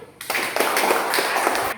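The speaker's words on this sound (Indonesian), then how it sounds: "Kita semua tepuk tangan untuk Wawan dulu." Classroom applause for a student, a short burst of many hands clapping together, fairly close and even, stopping abruptly.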